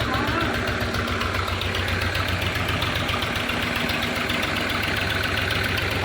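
A tractor engine idles steadily at a village dairy farm in Punjab, a loud, continuous low chugging throb that runs unbroken throughout with no other sounds standing out.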